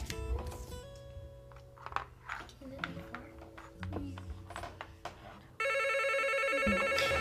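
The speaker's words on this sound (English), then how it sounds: "Don't answer the phone." A landline telephone rings loudly and steadily, its bright repeated tone kicking in near the end after a stretch of quieter background sounds, with an answering machine about to pick up.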